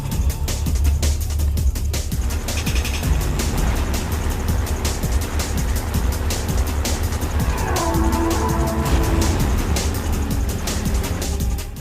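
Vehicle driving in Half-Life 2, a steady rumbling engine drone with rattling clatter over rough ground, continuous and close for the whole stretch.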